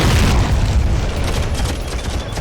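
Artillery explosions rumble through a battle in the war game Men of War, a loud, dense barrage of deep booms and crackling blasts rolling on continuously without pause, heavy low-end roar dominating throughout with no voices.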